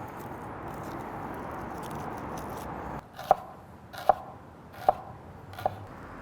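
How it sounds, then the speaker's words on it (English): Knife slicing peeled shallots on a cutting board: four sharp, evenly spaced chops in the second half, each a crisp tap after a quiet stretch of faint background hiss. "We're gonna cut the ends off, peel all the skin off, and then cut them into slices."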